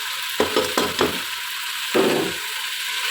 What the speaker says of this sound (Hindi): तो अब मैं प्याज डालने लगी हूँ।